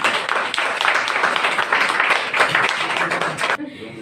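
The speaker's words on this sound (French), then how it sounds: "Et je pense que ça s'applaudit" Audience applause at a Christmas charity evening, a dense, continuous burst of many hands clapping, loud and close, holding steady for several seconds before cutting off abruptly.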